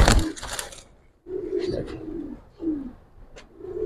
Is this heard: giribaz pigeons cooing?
yes